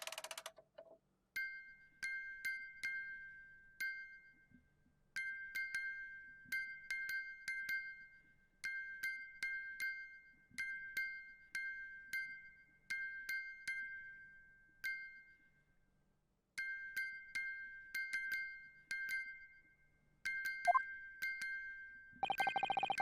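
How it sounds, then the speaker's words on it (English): Music box in The Great Ace Attorney video game chiming a slow repeating melody of bright, ringing metallic notes in short phrases separated by pauses, clear and isolated with no talking. "the sound emanating from this music box"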